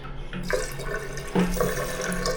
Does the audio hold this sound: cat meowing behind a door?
no